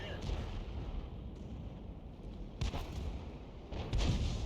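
FV304 self-propelled artillery firing in a tank battle video game, with heavy booming shots over a dense rumbling battle din, including a sharp report near the middle and another toward the end.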